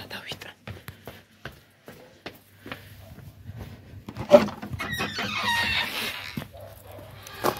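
A young rooster crows in a farmyard, its strained call rising in the second half after scattered clucks and rustling, while a person whispers and talks quietly nearby.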